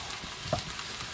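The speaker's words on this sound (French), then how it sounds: "pour bien faire revenir les oignons et les échalotes" Onions and shallots sautéing with carrots in a pan, a brief soft sizzle with a small pop in the middle.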